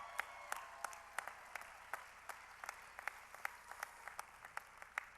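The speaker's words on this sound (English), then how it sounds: "Let's give them a big round of applause." Scattered audience applause at a convention presentation, individual claps landing in a loose, steady rhythm, fairly quiet and somewhat distant, with no talking over it.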